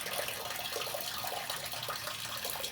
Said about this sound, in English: There's water that's flowing right here.